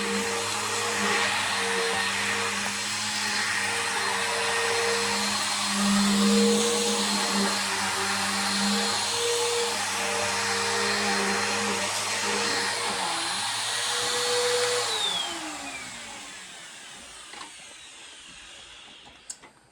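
An upright vacuum cleaner runs loudly and steadily, its pitch dipping briefly, then winds down and stops near the end, leaving faint clicks.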